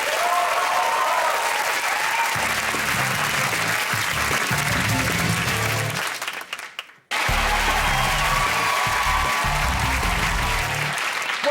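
Loud, sustained applause from a studio audience at a comedy quiz show with low music underneath. The applause cuts out briefly in the middle, then resumes just as full.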